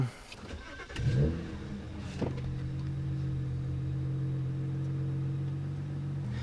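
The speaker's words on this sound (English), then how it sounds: "Let's go ahead and start this car up." A BMW E92 335i engine cranks and catches, then settles into a steady idle hum that continues close by.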